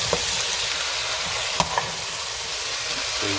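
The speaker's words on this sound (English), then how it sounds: "So you can like stir it up to get all the seasoning in the meat." Seasoned goat meat for Jamaican curry goat fries loudly in a pot, a dense continuous sizzle broken by a few spoon knocks and scrapes as it is stirred, close up and without voices.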